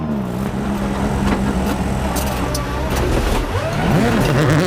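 Subaru Rally Team USA rally car on a snowy stage at Rallye Perce Neige 2017, engine roaring steadily with gear changes and rising and falling pitch, loud and continuous throughout.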